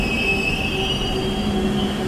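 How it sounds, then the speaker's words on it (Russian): A 320-series metro train at a station, its wheels squealing with a steady high whine over continuous rolling rumble, loud and close, no voices. "Такой красивый поезд"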